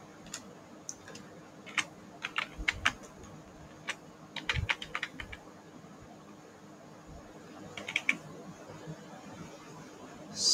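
Keys clatter on a computer keyboard as text is typed into Adobe Illustrator, quiet irregular bursts of clicks with pauses between short runs, close to the microphone with faint room hiss.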